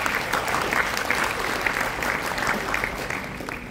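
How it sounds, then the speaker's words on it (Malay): Steady applause from an audience at a motivational business seminar in a hall, a dense even patter of clapping that carries on throughout without a break, with no talk over it. "Satu tepukan kepada anda."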